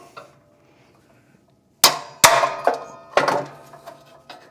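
A hammer strikes locking vice grips clamped on a catalytic converter air tube, giving a series of about six sharp metallic clanks in quick irregular succession after a quiet pause.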